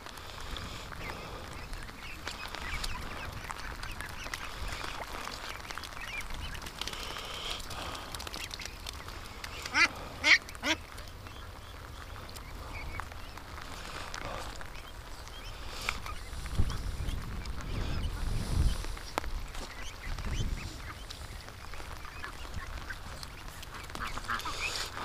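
Ducks quack intermittently around a barn, with a few louder calls standing out amid a steady background bustle and occasional low thumps.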